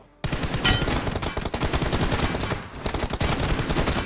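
Rapid automatic gunfire in a shooter video game, sustained close and loud bursts of shots starting abruptly, with a brief pause before firing resumes, no voices.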